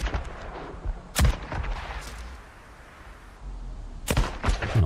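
Talon 7 rifle shots in the zombie-survival game Days Gone, set at a sawmill horde: a few sharp, loud single cracks spaced apart, with quieter game ambience between them.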